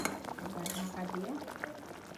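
Bengali fish curry (macher jhol) simmering in a covered pot on the stove, soft bubbling and gentle lid rattle with faint utensil clinks, quiet and close.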